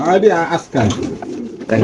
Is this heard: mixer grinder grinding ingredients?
no